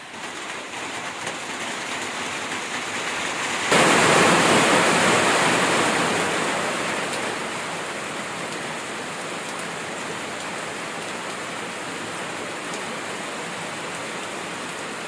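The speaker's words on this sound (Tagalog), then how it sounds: "Hala, nag-ulan na." Heavy rain pours down steadily in a dense, close hiss that swells suddenly louder for a few seconds, then settles into a constant roar.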